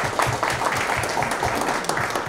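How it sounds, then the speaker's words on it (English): An audience at a Diwali celebration gives a round of applause: dense, steady clapping from many hands that fills the room at an even level, with no talking over it. "One more round of applause, please."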